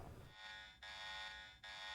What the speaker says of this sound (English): What's that alarm?